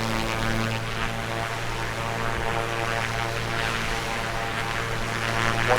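A Cessna Skyhawk propeller engine drones in a VR flight simulator with a motion rig and haptic seat, a steady loud hum with a constant low tone throughout and no voices.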